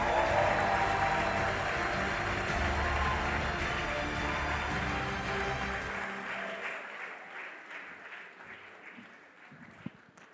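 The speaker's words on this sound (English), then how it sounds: "please keep the round of applause coming" A crowd applauds loudly, the clapping gradually thinning and fading out toward the end.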